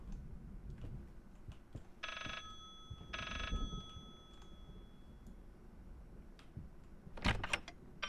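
A telephone bell rings in two short bursts in the horror game Layers of Fear, set against a low ambient drone, followed later by a sharp clattering burst.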